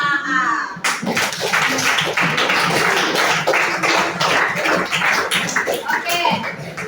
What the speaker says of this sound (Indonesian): tepuk tangan untuk kelas 5A